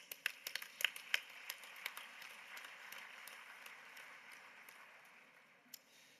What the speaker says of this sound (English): I ask you a great applause